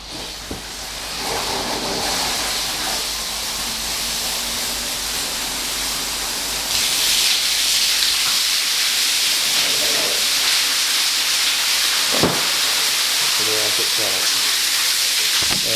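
An indoor koi pond filter system runs with a continuous hiss of flowing, splashing water that grows louder partway through, a few brief knocks breaking the steady rush.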